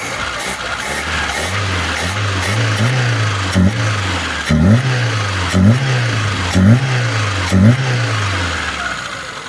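A Lada Niva engine fitted with a Solex 073 carburetor revs repeatedly, each blip of throttle rising and falling in a steady rhythm over a running idle, loud and close with no talk.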